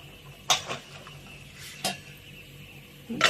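A metal vessel is picked up and raw green tamarinds are dropped into it, making a few separate clanks and knocks that are close and sharp against a quiet kitchen background.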